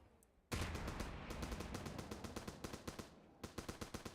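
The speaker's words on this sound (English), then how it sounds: "Burst fire." Rapid burst fire from a weapon in the game From the Depths: a loud sudden onset of dense, evenly spaced shots that keep hammering for about three seconds, a brief pause, then another quick volley, close and without talk.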